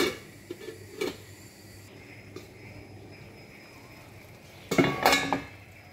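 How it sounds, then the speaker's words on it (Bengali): A metal lid set down over a cooking pan, a few soft clinks early, then a louder burst of clattering metal contact near the end over a quiet background. "ঢাকনা দিয়ে ঢেকে দিব 5 মিনিট"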